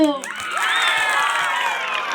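Junior high students in a classroom at a Christian school in Waibakul burst into loud, high shouts and cheers with some clapping mixed in, a sustained crowd of young voices close by.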